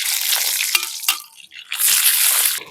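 Black mustard seeds and dried chillies crackle and sizzle loudly in hot mustard oil in a kadai, a continuous frying hiss with a brief dip midway before surging again.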